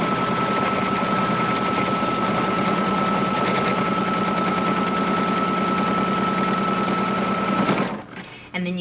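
An embroidery machine stitches an appliqué tack-down on a mug rug, a loud, steady rapid needle chatter with a constant whine that runs nearly the whole time, then stops abruptly near the end.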